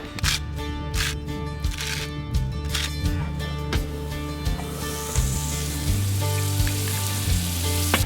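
Skirt steak sizzles and fries steadily on a camp stove outdoors, a continuous crackling hiss with occasional stirring or scraping, fairly close and alone without talk.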